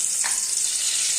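Bay leaves dropped into hot oil left from frying paneer, a steady bright sizzle with a brief louder crackle as they hit the oil.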